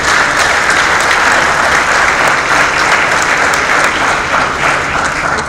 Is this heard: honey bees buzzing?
no